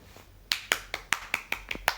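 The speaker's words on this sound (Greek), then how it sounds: "Όλοι παιδιά, χειροκρότημα." Crisp, sharp clapping sounds in a Roblox school roleplay game, about eight distinct claps in an even rhythm, close and clear with a faint background.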